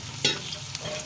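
Ginger garlic paste frying with onions in a pan, stirred by a spoon, giving a soft steady sizzle with a couple of sharp scraping clicks.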